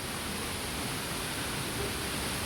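Three waterfalls pour steadily, a constant broadband rush of falling water with no breaks, fairly soft and even.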